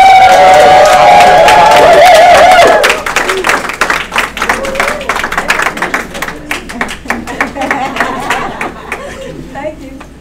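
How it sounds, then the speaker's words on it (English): Audience clapping rings out after a speaker on a microphone calls for a standing ovation, starting under his loud voice, then thinning into scattered, uneven claps with background chatter. "I want you to stand to your feet and give a warm round of applause to Melody Bonita."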